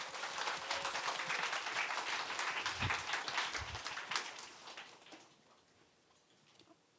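Applause at a Korean church youth worship service welcoming the preacher, a moderate crowd clapping steadily for about four seconds before fading into quiet room tone.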